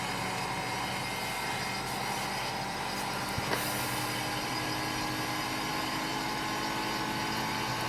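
An air conditioning unit charged with R-410A refrigerant produces a loud, steady broadband whir and hum. It holds constant at close range with no pauses.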